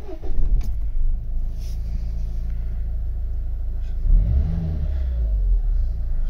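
Nissan Note 1.5 dCi diesel engine starting and idling with a steady low rumble, then a brief rise in revs around the four-second mark before settling back to an even idle, heard close with no talk.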